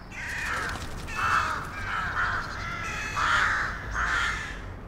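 Rook colony at its nests in heavy branches, with several birds giving repeated harsh caws in overlapping bursts, fairly close and loud against a rustling outdoor background.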